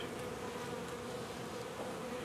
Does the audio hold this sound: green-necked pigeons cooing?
no